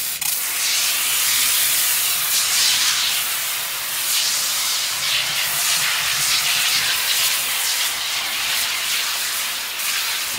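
M-Shine cleaner sprays onto a polished aluminum truck wheel as a loud, close, continuous hiss that runs for about ten seconds with slight surges and no talking.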